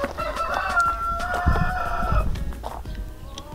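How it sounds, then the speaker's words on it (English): Chickens cluck and a rooster crows nearby on a farm with a big chicken house in New Zealand, the crow rising clearly over scattered clucks. "There's our beautiful rooster."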